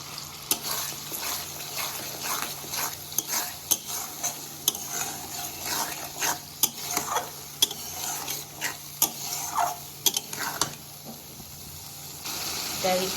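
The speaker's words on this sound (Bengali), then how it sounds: "তাই একটু জল দিয়ে আমি কষে নেব।" Soybean curry with chopped tomato and spices stir-fried in a pan, with a steady sizzle broken by repeated scraping and clattering spatula strokes, close and fairly loud, while a person talks quietly now and then.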